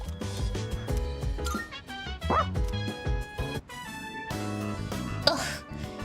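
Koromaru, a dog in the video game Persona 3 Reload, gives a few yips and a short bark over the game's background music.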